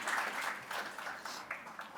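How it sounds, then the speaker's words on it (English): An audience applauds the level 3 winners at the 31st National Japan Bowl awards ceremony, with steady, dense clapping from a crowd that swells in bursts and continues throughout. "Another big round of applause to our level 3 winners."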